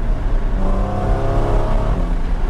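A Porsche Cayman 981 engine revs hard toward 7,000 rpm, a loud, close, sustained rising howl with no talking over it.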